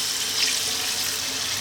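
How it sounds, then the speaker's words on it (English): A jug of water poured into a pot of lamb stew, giving a loud, steady, close gushing stream throughout with no pauses. "I'm going to add some water"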